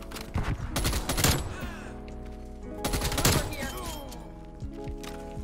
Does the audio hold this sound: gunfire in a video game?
yes